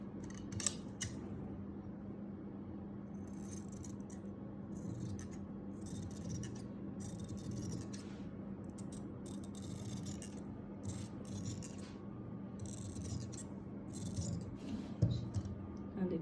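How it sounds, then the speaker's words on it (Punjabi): Scissors cut fabric for a kurti in a steady series of quiet, crisp snips that come in short runs throughout, close by, over a low hum of room noise. "ਅੱਗੇ ਵਾਲੀ ਕਾਟ ਪਾ ਲੈਣੀ ਹੈਗੀ"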